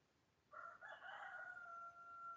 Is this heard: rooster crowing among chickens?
yes